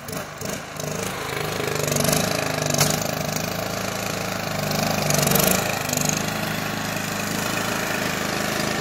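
A lawn tractor engine running low on gas keeps going for nearly nine seconds. The steady, uneven mid-pitched drone swells and sags at close range, with no talking.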